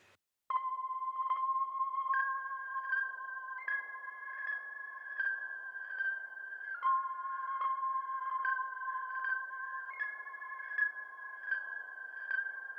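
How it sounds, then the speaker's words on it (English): A Prophet synthesizer plays a slow, simple melody of sustained, bright tones, moving step by step, fairly quiet and on its own. "I got the synth from the Prophet, and I kind of just played this little melody"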